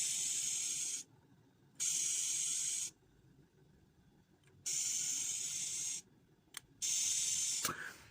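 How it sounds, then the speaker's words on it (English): Compressed air blown through a carburettor fuel line to test the float, a loud, steady hiss in several separate bursts of about a second each, with short pauses between them and a brief click near the end. "what I like to do is blow air through, so we can see if the float's actually working or not"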